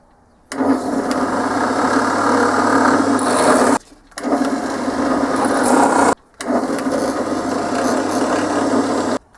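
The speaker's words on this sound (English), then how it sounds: "I plan on using this drill to make a guide point for where I'm going to drill it properly on the press." A handheld drill bores guide holes into a guitar headstock, running in three steady bursts of several seconds each with short pauses between, loud and close with a buzzing motor whine.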